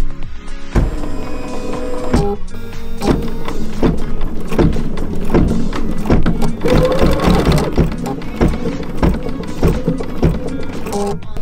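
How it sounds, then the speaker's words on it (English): Computerised embroidery machine stitching small placement lines on an in-the-hoop project, a steady fast mechanical chatter with regular needle ticks that runs loud and continuous throughout. "The next stitch sequence is going to stitch little placement lines on the side of the project for both your elastic and for the part 1 piece placement."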